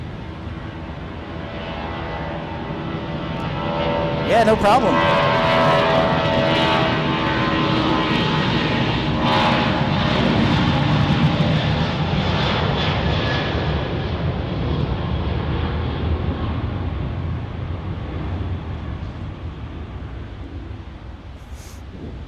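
A jet airliner roars past at Dallas Love Field in rain during thunderstorms, a loud broad rumble swelling and holding steady before easing off, with faint brief talk over it.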